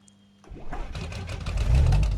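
A loud car engine in the Factory Simulator game starts up after a short quiet moment, then runs with a steady, rough, revving whir that grows louder toward the end, with no talking.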